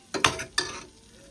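Onion and chicken liver curry sautéing in a pan, heard as a couple of sharp stirring scrapes over a soft sizzle, close and fairly quiet, with no talking.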